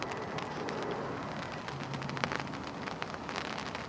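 Rain patters steadily on a fishing umbrella by the water, a dense close spatter of drops with occasional louder taps and a faint low rumble underneath, no voices.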